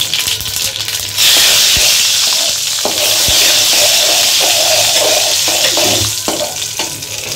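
Bay leaf, dried red chilli and cumin seeds hit hot oil for a vegetarian moong dal, setting off a loud, steady close-up sizzle and crackle that continues throughout, with faint stirring scrapes and no talk.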